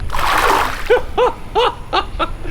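Tilapia thrashing in a backyard river make a burst of splashing, followed by several short, separate wet splats and sloshes at close range, with no talking.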